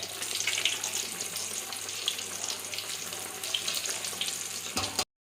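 Hot oil sizzles and crackles steadily as chicken pieces fry for homemade KFC-style chicken, a dense close hiss that runs until the clip cuts off abruptly.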